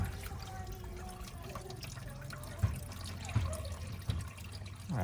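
Water pours and trickles steadily through a car's air-conditioning unit leaking inside the vehicle, a continuous wet splashing with a few louder gushes close by.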